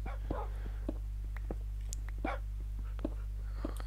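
Tamed dogs in the Minecraft video game give short, sparse barks and yips, scattered over a steady low electronic hum, with faint whispery sounds between them.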